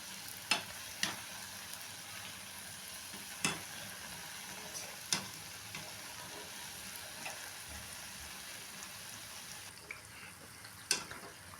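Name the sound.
sweet bonda frying in oil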